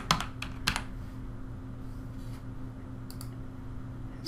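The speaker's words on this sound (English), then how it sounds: "I'm gonna type in the keyword" Keyword entered on a computer keyboard: a couple of quick clusters of near keystrokes at the start and a few more later, over a quiet hum of room noise.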